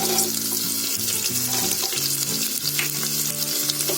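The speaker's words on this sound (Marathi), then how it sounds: "टोमॅटो टाकले. आता काजू टाकते" Tomatoes and cashews frying in a pan for masoor pulao, a loud, dense sizzle running continuously while a spoon stirs and scrapes against the pan, close up and with no talking.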